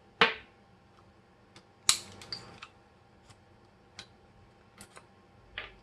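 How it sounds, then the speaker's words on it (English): Small metal parts of a 1911 pistol click and snap as the recoil spring plug is worked free by hand, with a few sharp close clicks and faint ticks spread across several quiet seconds, no talking. "Go ahead and remove our recoil spring plug."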